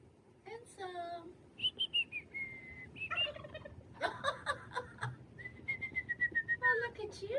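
Wild turkeys gobble in short rattling bursts outdoors at Choke Canyon State Park in Texas, with a person's voice faintly mimicking the gobble among bird chirps and whistles.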